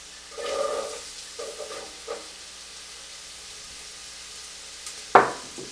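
Onion and carrots drop into a pot for smoked salmon chowder, giving a soft sizzle that flares briefly a few times and settles, followed by a sharper clink near the end, quiet and close.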